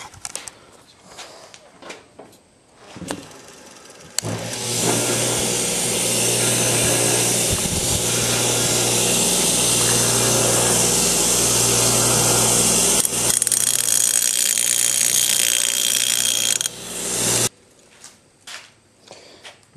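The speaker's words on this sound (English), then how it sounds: "So let's go ahead and grind it off and see what we come up with." An angle grinder cuts metal for a homemade ATV part, a loud harsh continuous roar of about thirteen seconds framed by quieter handling clatter before and after.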